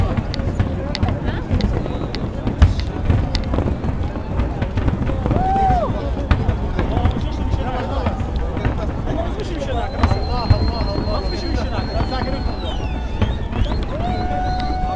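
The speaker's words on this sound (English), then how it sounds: "back to watch the fireworks on Lambeth Bridge" New Year fireworks over London seen from Lambeth Bridge, with a steady barrage of pops and bangs echoing beneath a loud crowd talking and cheering all around.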